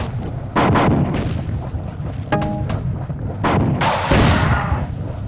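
Missile launcher fire in the video game Marathon 2: Durandal, loud booming launches and rumbling blasts overlapping with a brief electronic beep, heavy and close with no talking.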